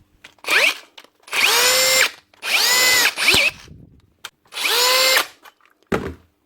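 A Hitachi DV18DBXL brushless cordless drill, repaired after a faulty trigger, whirs in several separate bursts, each spinning up smoothly to a high pitched whine and then stopping, close and loud.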